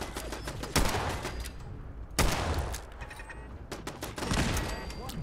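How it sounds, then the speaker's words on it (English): Gunfire in the video game Fallout 4 arrives as several sharp, loud shots at uneven intervals over a noisy background, with no talk. "I can shoot it from here though."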